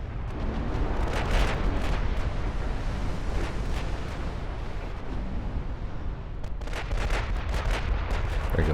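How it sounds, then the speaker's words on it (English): Secondary guns on a warship fire in a naval battle game set in 1954, a dense, continuous barrage of booming shots and rumbling blasts that stays loud and unbroken throughout, with no talking. "There we go, secondaries are opening up."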